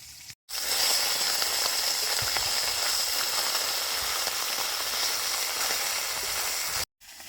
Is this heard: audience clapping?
no